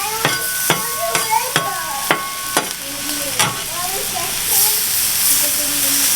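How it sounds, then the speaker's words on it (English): Shrimp sizzle in melted butter on a hibachi-style griddle, with a steady frying hiss under sharp, regular scraping strokes of stirring, about a dozen close, distinct hits before the hiss swells alone near the end. "we're just going to keep stirring these up until that butter is nice and melted in there"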